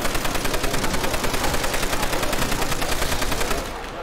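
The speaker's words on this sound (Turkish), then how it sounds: "Ben MG'ye geçtim." Rapid, steady machine-gun fire from Call of Duty: World at War zombies on the Nacht der Untoten map: a loud, continuous stream of evenly spaced shots that stops abruptly near the end.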